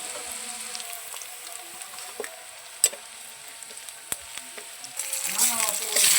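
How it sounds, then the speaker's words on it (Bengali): Chopped onion frying in a pan after cinnamon and cumin seeds, a quiet, even sizzle with a few sharp spatula taps and a brief louder hiss at the end. "পেঁয়াজটা একটু ভাজা হয়ে গেলে"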